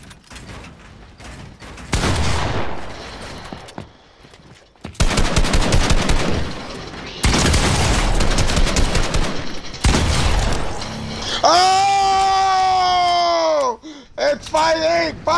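Rapid bursts of automatic gunfire in a Fortnite 1v1 match, loud repeated volleys in several stretches that end in a sweeping, pitch-bending effect, with people talking over it.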